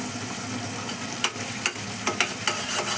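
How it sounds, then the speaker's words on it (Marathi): Raw tomato masala with curry leaves sautéing in hot oil gives a steady, close sizzle, broken by several sharp scrapes and clicks as a utensil stirs the pan. "याला तेल सुटेपर्यंत आधी परतत राहायचं."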